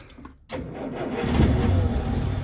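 A Land Rover Series III 109 van's engine cranks briefly on a cold start, then catches and settles into a loud, rough, steady running rumble close by, with no talking.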